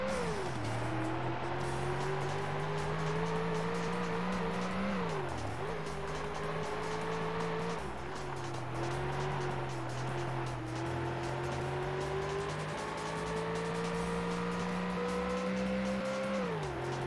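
Ford Taurus race car in the Ford Racing video game, driving on dirt: a steady engine drone runs throughout, its pitch dipping around gear changes and climbing again, with occasional tire scrub and no talking.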